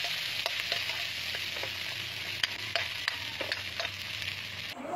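Garlic, onion and shrimp paste sautéing in a pan, a steady close sizzle broken by frequent scraping stirs of the utensil, with no voices.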